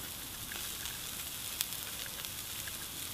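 Sweet potatoes with courgettes on a hot plancha give a faint, even sizzle that hisses steadily throughout, with a single small pop partway through and no voices.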